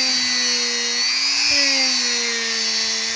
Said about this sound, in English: just take your Dremel tool